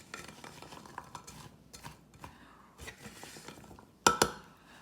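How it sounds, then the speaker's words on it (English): A spoon stirs blueberries in a pot over medium heat, making soft scattered scrapes and taps that end in two sharp metallic clinks against the rim. "You would like to occasionally stir so the bottom would not stick to the pot."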